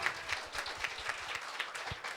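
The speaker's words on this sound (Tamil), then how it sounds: "எல்லாரும் ஒரு கைத்தட்டல் கொடுங்க பார்ப்போம்" An audience at a Tamil sangam third anniversary debate event claps together, a dense steady patter of many hands at moderate distance, brief and without talk.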